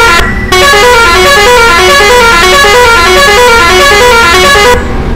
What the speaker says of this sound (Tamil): ஆரனை போட்டு தான் ஓட்டணும்